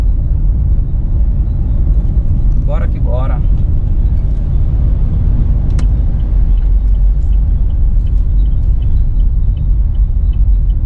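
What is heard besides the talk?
car driving on highway in a convoy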